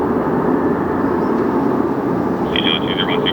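Jet airliner taking off from a runway at LAX, a steady loud broadband engine roar throughout with a brief higher tonal whine near the end; someone talks over it.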